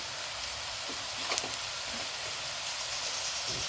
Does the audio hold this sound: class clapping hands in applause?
no